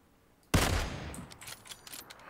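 A sudden loud burst of gunfire erupts in a PUBG Battlegrounds match, with a sharp attack and a long rumbling tail, then scattered quieter shots and clatter follow.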